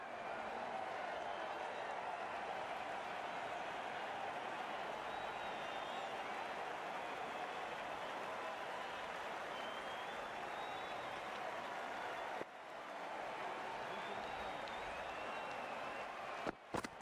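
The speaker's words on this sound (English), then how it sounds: "The crowd are loving this." Cricket match crowd applauding, a dense steady wash of clapping and cheering that holds throughout, heard from a distance with a brief dip near the end and no clear talk over it.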